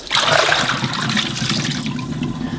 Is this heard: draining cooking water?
yes